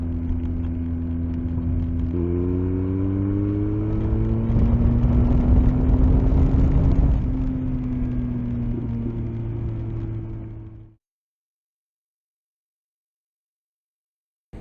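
A BMW R1250R motorcycle fitted with an SP Engineering Diabolus Oval X exhaust idles and then revs, its deep steady drone rising in pitch through several throttle blips before cutting off abruptly into silence.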